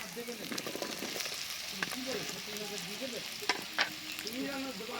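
Mushrooms fry with cumin powder and red chilli powder in a pan. A steady, moderate sizzle carries on throughout, with occasional spatula scrapes and small knocks as the mixture is stirred.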